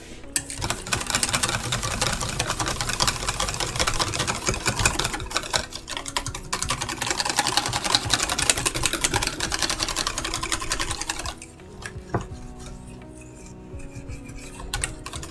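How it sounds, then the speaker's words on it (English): A whisk beats a Twinkie-based mixture with raspberries in a bowl, a loud, steady, dense scraping rattle that runs continuously, then drops to a quieter, sparser stirring near the end. "I'm gonna have to take a whisk to this."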